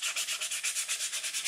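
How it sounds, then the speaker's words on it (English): Light sanding of a rocket body tube: quick, even back-and-forth rasping strokes, about ten in a steady rhythm, close up and alone. "Some light sanding."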